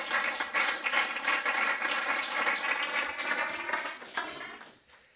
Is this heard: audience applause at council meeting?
yes